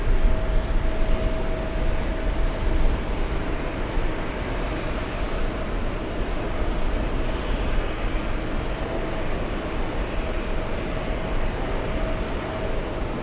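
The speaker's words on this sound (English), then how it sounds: "it looks like Air Force One landing a few minutes after 7 p.m." Air Force One landing at JFK airport, a continuous, heavy jet roar with low rumble that stays loud and steady throughout, easing slightly after the opening seconds.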